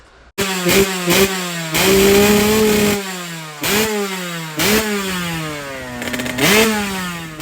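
A smoky Yamaha YZ125 two-stroke dirt bike engine revs hard in repeated loud blips, pitch surging and falling between bursts with a raspy idle in the gaps.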